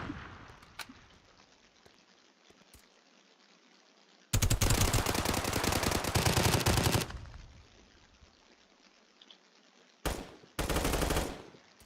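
Bursts of rapid automatic gunfire in a Roblox shooter game, one long stretch lasting a few seconds and two shorter bursts near the end, with quiet gaps between.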